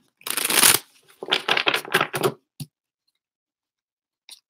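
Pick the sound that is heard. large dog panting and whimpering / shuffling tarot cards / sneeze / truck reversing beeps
shuffling tarot cards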